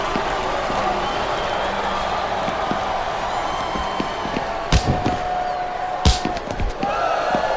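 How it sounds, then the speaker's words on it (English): A wrestling arena crowd in the video game WWE SmackDown vs Raw 2007 keeps up a steady roaring chant, with sharp slams and impacts on the ring cutting through and commentators talking over it. "listen to that chant, Taz"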